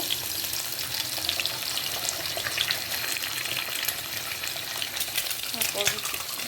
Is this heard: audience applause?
no